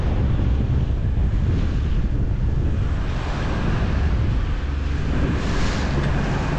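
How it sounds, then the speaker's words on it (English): Waves breaking over a reef at sea, a continuous heavy wash of surf mixed with strong wind buffeting the microphone, loud and close throughout. "The water's breaking over there"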